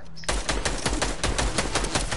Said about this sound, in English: I hit my sniper shot, though.